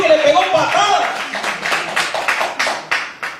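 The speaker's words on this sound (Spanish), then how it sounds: "Démosle un fuerte aplauso a nuestro Dios" A church congregation applauds, with scattered claps building into a steady burst of clapping that partly overlaps a speaking voice.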